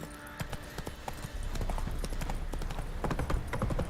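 A horse gallops in the video game Witcher 3, its hooves clip-clopping in a quick, steady rhythm that grows louder and denser as it speeds up.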